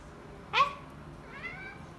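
A cat gives a single short meow, faint and slightly distant, followed by a softer trailing murmur against a quiet indoor background.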